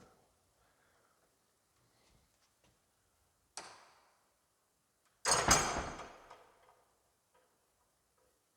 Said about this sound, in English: So we should now close this old door.